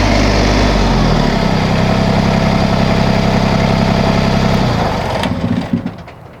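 LS Tractors MT-122/125 compact tractor with LB1107 backhoe idling steadily at close range with a loud, even low rumble, then shutting off near the end with a few fading knocks.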